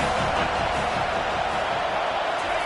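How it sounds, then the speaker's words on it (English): A stadium crowd at a college football game against Kennesaw State keeps up a dense, steady roar that holds loud and unbroken from start to finish, with no clear peaks. "This crowd rising up, sensing that its defense needs some help."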